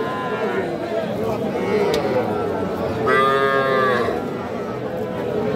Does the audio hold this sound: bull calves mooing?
yes